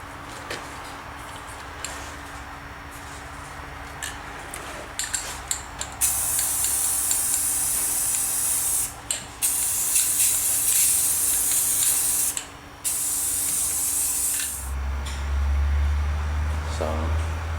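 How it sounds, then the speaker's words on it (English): Spray paint hisses in long bursts onto a model train layout part, coating it green, with short pauses between each spray and a low rumble at the end. "So what I'm going to do is spray it. I'm going to spray it green."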